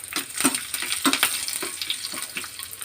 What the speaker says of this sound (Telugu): ఒక పాన్ తీసుకొని కొద్దిగా ఆయిల్ వేసుకొని ఆయిల్ హీట్ ఎక్కినాక పోపు దినుసులు వేసుకోవాలి.